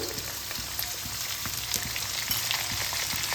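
Pumpkin and potato pieces frying in mustard oil with turmeric over medium flame, a steady crackling sizzle with light spattering pops and occasional stirring, close and even throughout.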